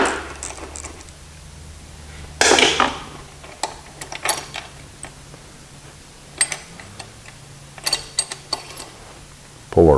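Loosening rocker arm bolts with a 5/16 wrench during a Briggs-to-Kohler engine swap on a Toro GT150 Personal Pace mower: scattered light metallic clicks, ratcheting ticks and clinks, near and fairly quiet over a low steady hum, with no talking.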